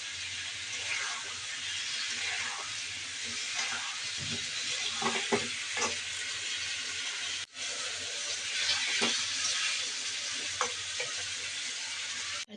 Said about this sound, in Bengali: টমেটোটা দিয়ে মশলা কষাচ্ছি